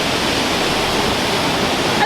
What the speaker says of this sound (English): Very beautiful, gorgeous waterfalls.